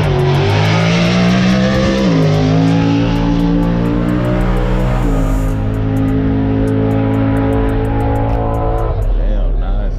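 A drag race car makes a full run down the track at Texas Motorplex, its tires spinning the whole way: a loud, sustained engine roar that climbs in pitch through the gears, with voices talking over it.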